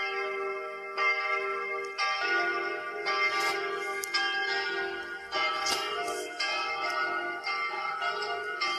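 The smallest bell of the Saint-Étienne cathedral in the game Block Craft 3D swings and rings, each stroke landing about once a second with a bright ringing tone and no talking.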